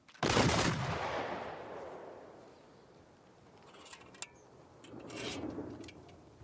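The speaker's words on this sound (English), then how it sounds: "Rifles! Make ready! Fire!" Soldiers in a period war film fire a rifle volley, one loud sharp blast that decays into a long rolling echo, followed by fainter clattering and a second swell of distant noise.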